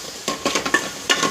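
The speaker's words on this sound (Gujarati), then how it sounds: "હલાવી લઈશું।" A spoon scrapes through tomatoes and ginger-garlic-chili paste in a pan, making quick rhythmic stirring strokes with a light sizzle while the okra kadhi base cooks, and no one speaks.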